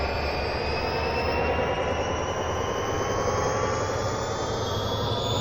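A CSX diesel locomotive in Train Sim Classic roars at full throttle on the Hanover subdivision, a steady, loud, droning engine rumble with a high whine layered on top, unbroken throughout.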